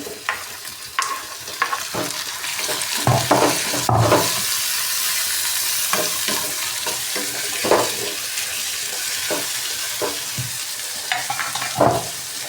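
Tomatoes fry in a hot pan with a continuous hissing sizzle, broken by irregular stirring scrapes and clatters of a spoon, close and fairly loud.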